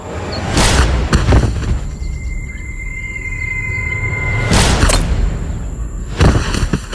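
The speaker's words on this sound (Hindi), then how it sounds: "अचानक गोलियों की दंदनाहट से मीलों तक फैला सन्नाटा दहल गया।" Gunfire sound effect in a Hindi audio drama set at an army post on a mountainous, forested border, a few heavy booming shots ringing over a dense, continuous low rumble.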